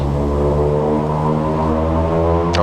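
A Saab 340 turboprop's engines drone at takeoff power, a loud, steady propeller hum with strong even tones, and a brief rising whine near the end.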